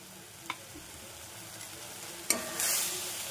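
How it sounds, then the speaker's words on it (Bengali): A spoon stirs eggplant bharta in a pan, giving soft scraping strokes with a couple of sharper clinks, over a faint steady sizzle. "খুব ভালো করে মিশাতে হবে।"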